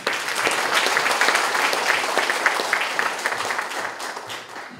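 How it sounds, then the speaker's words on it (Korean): An audience at a book concert in a conference hall gives warm, sustained applause, a thick wash of many hands clapping that tapers off slightly toward the end. "여러분들 박수를 한번 보내주시면"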